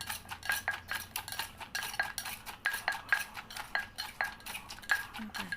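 A pestle pounds spicy Thai papaya salad with fresh chilies in a mortar, a steady quick rhythm of knocks with clinking and scraping, fairly quiet and close.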